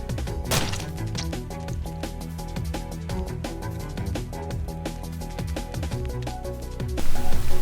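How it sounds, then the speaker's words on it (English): Tabletop Simulator video game reopening: a steady, loud run of rhythmic percussive taps and tonal stabs, like a looping game jingle, continuous throughout and swelling brighter near the end, with no talk. "That was the sound of Tabletop Simulator reopening."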